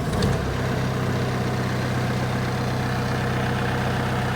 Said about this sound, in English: The unit is now idling, 950 RPM is a typical RPM for the idle